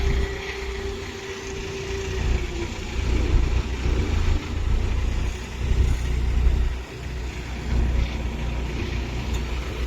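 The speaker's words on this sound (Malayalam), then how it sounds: "രണ്ടാമത്തെ ചെയിൻ നമ്മുടെ ക്രെയിന് തൂക്കിയെടുത്ത് വരുന്നുണ്ട്." A crane engine lifting a heavy chain during roadwork on NH66 makes a steady low drone throughout, with a brief thin whine early on and no talk.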